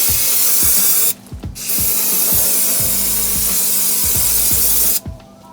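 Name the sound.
spraying brake cleaner on a new brake rotor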